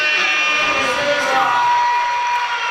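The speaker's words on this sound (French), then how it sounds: "Sous vos acclamations, s'il vous plaît." Audience at a school year-end closing ceremony cheering and whooping: a loud, sustained roar from a large crowd, with some shrill voices above it.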